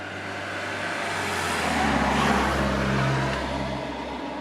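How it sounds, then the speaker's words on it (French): Renault Mégane RS heard from inside the cabin while driving, a steady engine drone and road rumble that swells slightly midway as the car pulls, with no talking. "La Mégane RS, quand vous êtes au volant, ça donne ça."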